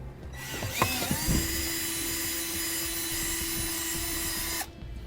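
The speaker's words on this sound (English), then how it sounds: "We're going to drill a hole through this." A power drill whines at a steady high pitch for several seconds after brief handling noises, boring a hole through a panel in a 2009 Dodge engine bay, cutting off abruptly near the end.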